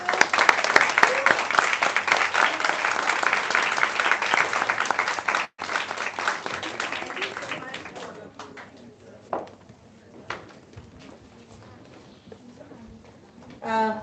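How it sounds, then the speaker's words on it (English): An audience applauds teachers at a school event, dense clapping carrying strongly for several seconds, then thinning to scattered claps and faint background noise before a few last claps near the end. "Huge round of applause for your teachers."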